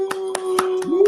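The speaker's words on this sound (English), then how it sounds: "I'll do the clapping" Hands clap five times at a steady pace in a studio, sharp and close, over a sustained tone and faint talk.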